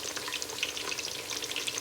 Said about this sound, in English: So we frying eggplant now.